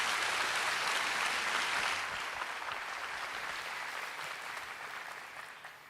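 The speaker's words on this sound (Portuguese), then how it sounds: "aquela salva de palmas e boas-vindas para o pastor" A church congregation applauds to welcome the pastor, a broad sustained wash of clapping that starts strong and gradually softens over several seconds.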